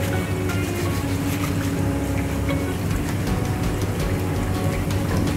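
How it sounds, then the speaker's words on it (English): Tap water runs steadily into a sink during handwashing in a kitchen, a constant close rushing hiss with no talk over it. "leave the tap water running"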